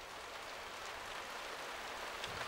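Heavy rain pours down in a steady, unbroken hiss, a faint, even wash of falling water with no voices over it.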